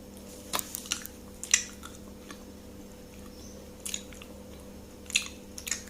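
Close, wet chewing and biting of Harry Potter candy, soft squishy crunches in scattered bursts over a low steady hum, with no talking.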